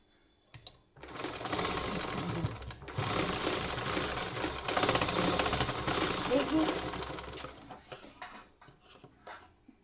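A sewing machine stitches blouse fabric in a fast, even mechanical chatter that runs for several seconds, pauses briefly and starts again, close and clear, with a faint clack as it stops.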